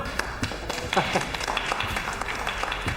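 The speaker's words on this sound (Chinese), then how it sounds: "鼓掌欢迎！" Scattered hand clapping welcoming someone into a room in a Chinese TV drama scene, a few people clapping unevenly at moderate volume while voices talk over it.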